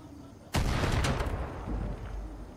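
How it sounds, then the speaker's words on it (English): A remote explosive destroys an anti-aircraft gun in Far Cry 5: one sudden, loud blast erupts and settles into a heavy rumble with crackling debris that lasts to the end. "I got a remote explosive. put that there. Let's back up a little bit, and let's watch the fireworks."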